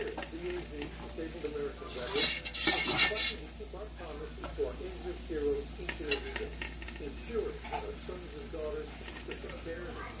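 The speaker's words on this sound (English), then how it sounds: "Scraping up my pot. Sorry for the noise." A spoon scrapes and stirs a cooking pot of pork chop gravy in repeated short strokes over a soft simmering sizzle, with a few sharper clanks and a person talking quietly.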